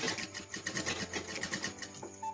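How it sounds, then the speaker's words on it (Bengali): A sewing machine stitches a ruffled pillow cover in a quick, even rhythm of needle strokes, quiet and close with no voices. "রেখে দিয়ে আবার সেলাই করবো"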